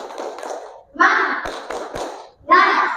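A class of children doing the rhythmic tepuk semangat clap, with sharp hand claps and taps in short patterned bursts mixed with children's chanting voices.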